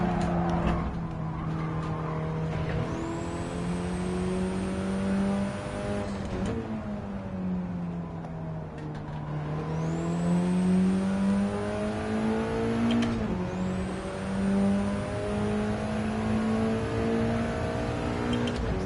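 Car engine racing through corners in Gran Turismo 7, rising and falling through repeated gear shifts with sharp upshift whines, a steady loud drone across the whole lap section with no voices.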